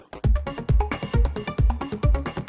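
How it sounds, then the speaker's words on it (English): Filtered, distorted techno loop in a raw, deep, hypnotic style, with punchy kick hits about every quarter second under gritty, buzzing midrange stabs, loud and driving with no voices. "some filtered distortion loops"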